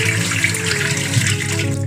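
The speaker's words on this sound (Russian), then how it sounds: "Теперь для проверки набираем воду, которая течет в кране." Tap water runs from a faucet into a container in a steady, close, continuous splashing rush with no pauses or speech.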